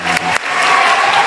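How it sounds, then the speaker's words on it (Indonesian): A short burst of applause from a seated audience of students at an Islamic religious lecture, a dense, even clatter of clapping with little else heard. "ayo kasih tepuk tangan dulu"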